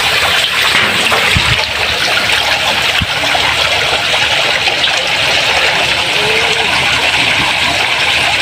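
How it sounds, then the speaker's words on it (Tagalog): Water pours steadily into a catfish spawning tank, a close, loud, continuous trickling rush with a couple of faint knocks early on. "May tubig na flowing."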